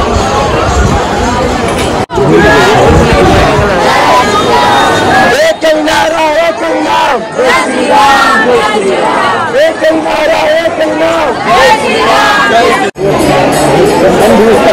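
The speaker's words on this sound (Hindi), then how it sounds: "बहुत बहुत भीड़ है भाई" A large crowd chatters loudly in a temple queue for darshan, a dense continuous babble of many voices close by, broken by two brief dropouts.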